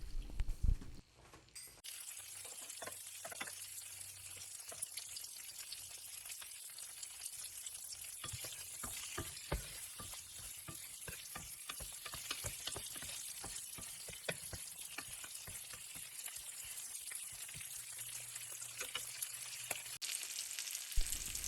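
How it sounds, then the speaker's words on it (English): Smoked beef sautéing in a pan with oven-roasted red peppers and garlic: a continuous close sizzle and crackle with scattered sharp pops over the whole stretch, no talking. "put in some of those oven roasted red peppers with some of that garlic, and just give it a light saute"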